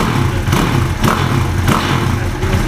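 Pit bike engine fitted with a LeoVince exhaust runs steadily up close, a loud continuous mechanical drone with a few brief surges of revving.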